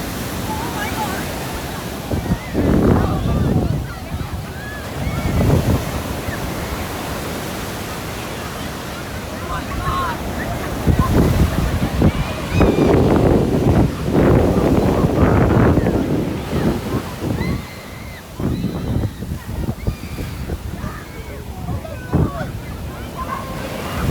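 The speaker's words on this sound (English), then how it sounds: "Waves are nice. They come in big chunks, so there'll be 6 or 7 big fatties in a row." Large surf breaking at Huntington Beach, California, with a steady broadband roar that swells in heavy surges, loudest mid-stretch, buffeted by wind noise on the microphone.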